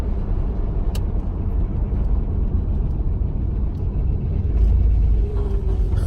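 A car's engine rumbles steadily while it is driven on city streets, with a constant low road drone and a slight swell in the last seconds. No one speaks.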